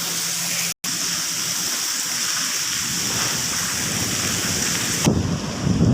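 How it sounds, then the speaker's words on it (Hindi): Heavy storm rain pouring over an area with trees in Pakistan, a dense steady hiss with wind buffeting the microphone, loud and continuous, briefly cutting out near the start. "ये हुण देखो साईं कितनी बारिश आंदी पई है"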